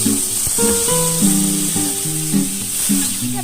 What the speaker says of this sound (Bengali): দিয়ে আমি এটা কড়াইয়ের মধ্যে এখন দিয়ে ভেজে নেব।